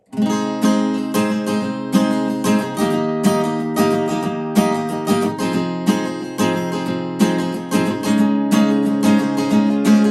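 An acoustic guitar recorded in stereo strums and picks a steady chord pattern, bright and full, playing alone and close with no voices.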